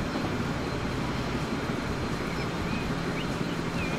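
A train riding through hills and open landscape in the transport game Transport Fever 2, a steady, noisy, continuous rumble heard from on board, with no talking.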